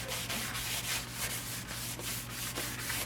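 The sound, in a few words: sanding a spalted magnolia wood bowl on a lathe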